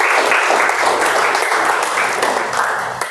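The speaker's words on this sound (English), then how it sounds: "Let's give a good round of applause to all the tabletop speakers." A room of Toastmasters club members gives a thick, continuous round of applause for the tabletop speakers, many hands clapping together at steady volume and tapering slightly at the end.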